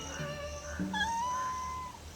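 Domestic cat of a native local breed meows close by in one drawn-out, rising-and-falling call, loud and clear with no talking over it.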